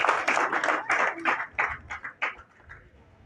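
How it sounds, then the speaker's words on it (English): An audience claps at a political gathering in Uganda, a burst of many hands close and loud that thins into scattered claps before fading. "I would like us to clap for him yet again."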